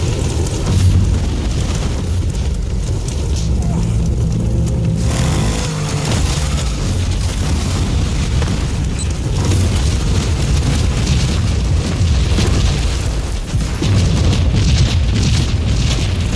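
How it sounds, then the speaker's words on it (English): A gravity well grenade going off in the video game Warzone, a loud, sustained rumbling boom and roar filling the clip with dense low-end explosion noise and no talk. "That gravity well. It's like a big ass grenade that goes off."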